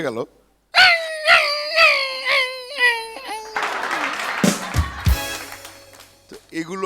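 A voice imitates the whimpering and yelping of a dog that has lost a fight, a run of rising and falling whines and short cries, close and loud, with brief clattering noises toward the end.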